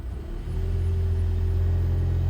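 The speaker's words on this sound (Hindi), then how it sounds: "और गाड़ी का इंजन ऑन हो गया बिकॉज हीट मैंने ऑन कर दी है।" A Toyota Aqua hybrid's engine kicks in and settles into a steady low idle hum, rising briefly at the start and then holding a smooth, even drone close by, with no talk over it.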